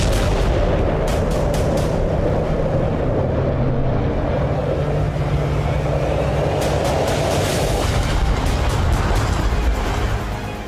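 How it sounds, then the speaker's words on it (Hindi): Loud, sustained roar of an explosion at a Russian warship, the Sergei Kotov, during a Ukrainian attack in the Black Sea, with rumbling blasts and crackling bursts running continuously throughout, no talk. "लेकिन रूसी नौसेना यूक्रेन का हमला नाकाम नहीं कर पाई और जबरदस्त धमाका हुआ।"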